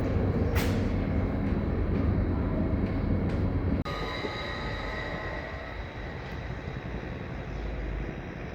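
Steady rumble of a train riding through Switzerland from the mountains toward Zurich, with continuous wheel and carriage noise, a brief squeal, and an abrupt shift in tone partway through, heard from inside without talk.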